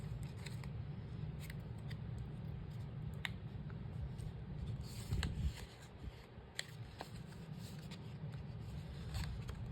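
Scissors snip through multi-layered paper in a run of quiet, crisp cuts with short pauses, close up over a low steady background hum, and no one talks.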